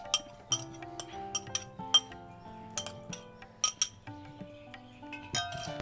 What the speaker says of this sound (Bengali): কুসুমটা আমি এবার এটা বিট করে আমি এখানে মিশিয়ে দিচ্ছি